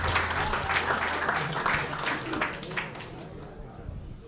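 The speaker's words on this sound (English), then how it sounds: "A round of applause for your 6 legends who will be going head to head for their respective rivalries." A crowd applauds six AFL legends at a live Carlton Draft event, clapping and cheering loudly at first and then thinning and fading, with talk mixed in.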